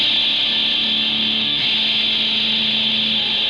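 A MIDI rhythm guitar run through a distorted guitar amp, strummed in a steady, dense wall of saturated tone that holds loud and continuous throughout with no talking.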